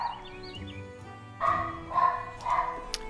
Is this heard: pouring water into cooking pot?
no